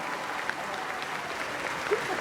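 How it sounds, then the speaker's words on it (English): A convention crowd at a fan Q&A claps for a fan's scarf, a moderate, steady spread of hands clapping with faint murmuring underneath. "Round of applause for the scarf."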